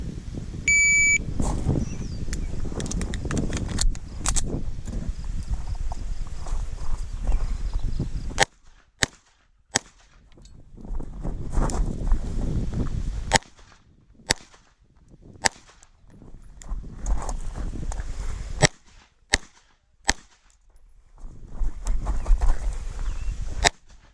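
Sharp pistol shots from a Wilson SFX9 during an IDPA match ring out in irregular bursts, some in quick pairs and others spaced apart, with loud cracks over steady outdoor background noise.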